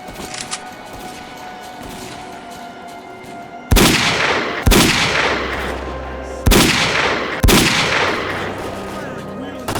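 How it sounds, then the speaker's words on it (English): Heavy gunfire in S.T.A.L.K.E.R.: Call of Pripyat: four loud, sharp shots with long ringing decay, spaced a second or two apart, following a quieter stretch with faint background sound. "we're taking heavy fire from an unidentified enemy"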